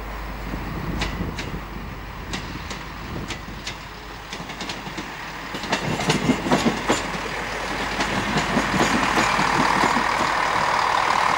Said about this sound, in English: Class 158 sprinters are used on these services.